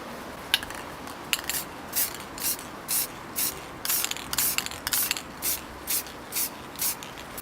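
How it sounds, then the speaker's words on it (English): Repeated short hissing bursts from a brown spray paint can, about a dozen quick sprays in an irregular rhythm, close and fairly quiet with faint clicks. "So I'm now going to do a gentle spray with a brown paint over the top."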